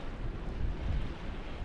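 Wind gusts buffet the microphone on a riverbank during a fishing session, a low rumbling roar that swells and dips over a couple of seconds with no voices.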